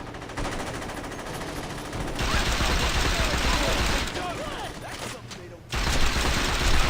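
Automatic gunfire rips through a pot plant crop in the Saints Row 2 video game, with loud sustained bursts that cut out and resume, and someone talking over the shooting.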